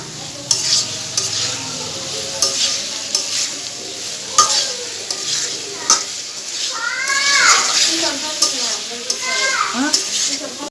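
Potatoes being stir-fried with ginger, garlic, cumin and onion spices: repeated spoon scrapes and stirring clatter over a steady pan sizzle, with a cat meowing several times partway through.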